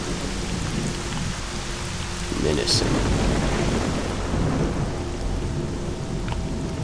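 Thunderstorm in the video game STALKER Shadow of Chernobyl: a constant loud hiss of rain with a deep thunder rumble swelling partway through, while someone speaks briefly over the storm.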